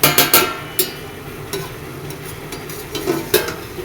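Pointed gourd (potol) is fried and stirred in a pan in a Bengali home kitchen, with a steady sizzle under sharp, intermittent scraping clanks of the spatula, close and fairly loud.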